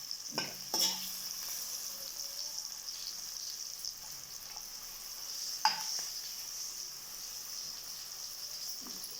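Brinjal and okra are stirred in a pan over a steady faint sizzle, with a few soft scrapes and taps of the spoon against the pan.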